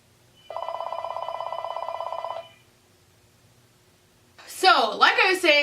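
A phone rings in one steady, electronic burst of about two seconds, fairly close. After a short pause a person starts talking.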